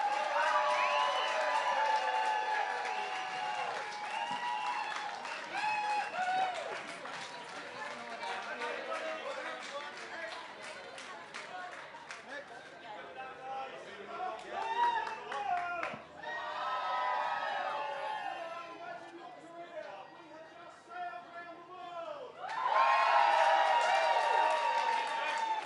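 Audience cheering and applause at the return of the round-the-world sailing race fleet to London, a broad crowd roar that swells and fades, with shouting voices and bursts of louder cheering near the start and end.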